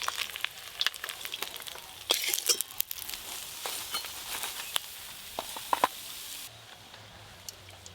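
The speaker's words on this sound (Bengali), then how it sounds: "পাঙাশ মাছগুলো কিন্তু একটু লাল লাল করে ভালো করে ভেজে নেব।" Pangas and chela fish frying in hot oil, a steady close sizzle with scattered crackles and pops that quiets near the end.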